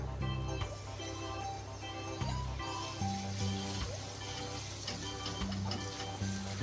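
Homemade masala for street-style ragda pattice hits hot oil, giving a steady, fairly loud sizzle and frying hiss that runs the whole way with occasional scraping clinks of a utensil.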